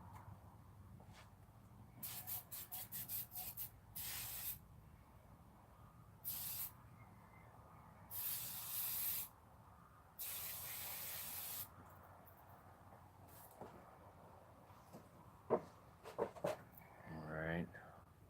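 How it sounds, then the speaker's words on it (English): Several short bursts of hissing spray cleaning a part on a 1984 Ford F250 with a 460 7.5-litre engine, bright and close, separated by quiet pauses, with some clanking and handling noises near the end. "Let's see if I can spray this off."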